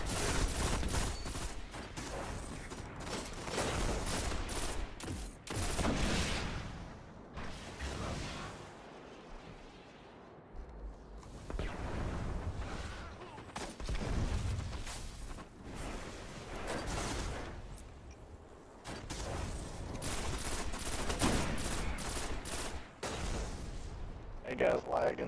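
Rapid bursts of gunfire in the video game Destiny, repeated volleys coming in loud clusters with short gaps, mixed with game sound effects throughout.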